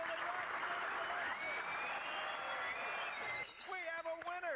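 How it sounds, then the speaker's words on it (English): Dense, steady clapping from a studio audience on a TV tech show runs for about three seconds with a host talking over it, then stops as speech continues alone. "Why is he clapping like that?"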